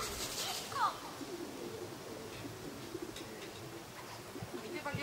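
Racing pigeons coo softly as they arrive at a loft in Czersk during a race homecoming, a brief close coo standing out over a low outdoor hum, with people talking quietly nearby.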